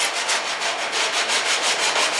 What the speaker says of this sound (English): you can see that we've sanded that down smooth on this edge right here.